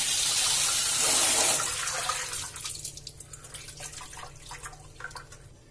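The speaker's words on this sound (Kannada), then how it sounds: "ಈ ಸ್ವಲ್ಪ ತಣ್ಣೀರಲ್ಲಿ ವಾಶ್ ಮಾಡ್ಕೊಳ್ಳಿ." Prawns are washed in cold water in a kitchen. Running water pours loudly at first, then fades into lighter splashes and drips as the prawns are handled, with no talking.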